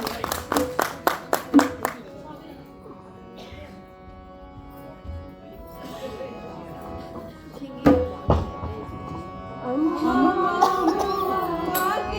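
Loud, close clapping from an audience at an orientation course presentation, a quick burst of handclaps at the start. It gives way to quieter hall noise, a couple of thuds and a swell of music.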